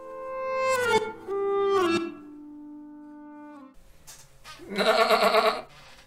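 A goat that escaped a slaughterhouse in New York bleats twice in clear, wavering, nasal cries, then gives a harsher, noisier bleat after a short pause, close and loud in a quiet setting.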